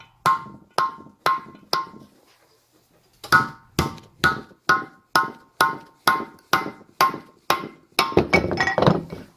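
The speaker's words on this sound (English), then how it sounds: "Just whacking on that with a rubber mallet so we don't damage anything." A rubber mallet knocks on an air compressor part during a rebuild, a dozen-odd solid thunks in an even rhythm with a short pause partway, close and fairly loud.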